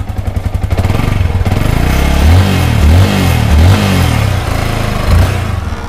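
Two-cylinder sport motorcycle engine, an R15-type bike, idling with a steady low throb, then blipped through several sharp revs that rise and fall close by, with no talk over it.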